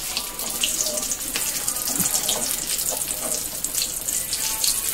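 Water pours steadily from a kitchen tap as mutton gravy is cooked, a constant close hiss and splash throughout with no voices.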